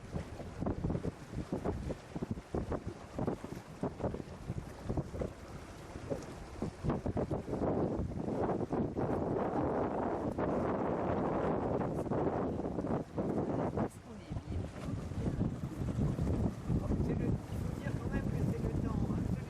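Wind rushes steadily around a sailing boat out on a large lake, a continuous close buffeting roar mixed with the wash of water against the hull throughout.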